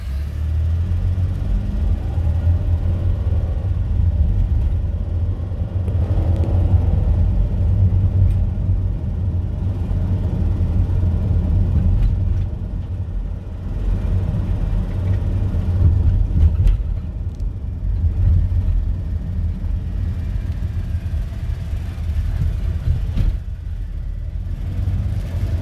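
A 2010 Chrysler Town & Country minivan with a 3.8L V6 and 55k miles accelerates through its gears on the road, a loud continuous low engine rumble and road noise that swells and eases with brief shift dips.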